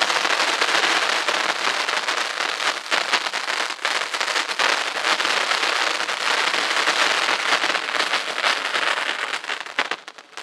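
Festival firecracker from Sivakasi bursting, a long dense stream of rapid crackling pops like heavy rain on a surface, loud and continuous, fading at the very end.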